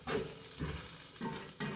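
Potatoes and onions fry in a skillet with a steady close sizzle, broken by a few scraping stirs at an even pace.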